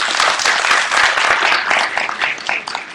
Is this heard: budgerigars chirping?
no